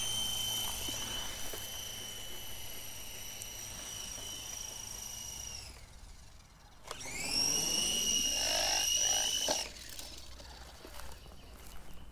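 A cheap toy RC helicopter that malfunctions: small motor and rotor whine steadily with a high buzzing tone, cutting out briefly, then spinning back up louder before settling again.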